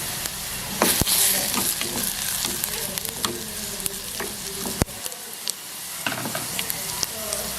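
Onions frying in a pan are stirred, giving continuous sizzling broken by clattering scrapes and one sharp knock, all close and fairly loud, with no talking.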